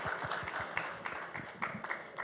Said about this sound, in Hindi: उनके लिए भी तालियां बजनी चाहिए